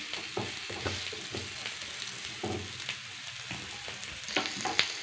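A ragi adai flatbread sizzles steadily in a hot pan after flipping, a soft continuous frying crackle with occasional light taps and scrapes, close and fairly quiet, with no talk.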